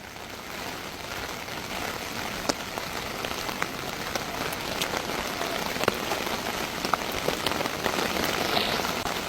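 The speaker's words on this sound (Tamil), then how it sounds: "பயங்கர மழை வேற பெஞ்சிட்டு இருக்கு, காத்தும் சேர்த்து." Heavy rain pours steadily with wind during deadly flooding near Mullaitivu, a dense, continuous hiss of drops drumming on surfaces with scattered sharper splats and no speech.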